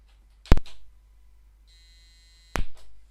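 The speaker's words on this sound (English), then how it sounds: "The beep codes on the Micro:IT Research are pretty annoying and they're very slow" Micro:IT Research computer motherboard sounding slow POST beep codes, two loud clicks each followed by a short buzz, with a single sustained beep tone sounding between them.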